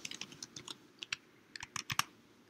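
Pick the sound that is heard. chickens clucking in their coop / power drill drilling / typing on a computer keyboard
typing on a computer keyboard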